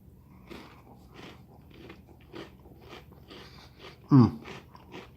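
One sharp crunchy bite into a chocolate-covered cookie bar from a 1996 US cold weather military ration, a single close snap standing out against quiet background rustle.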